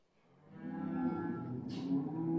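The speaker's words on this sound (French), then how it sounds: "dit forcément sortie des vaches. Et je crois qu'on les entend assez gueuler." Cows low and bellow on a farm just before being let out to pasture in early March, one long, rising moo swelling from quiet to loud at close range, with no talk.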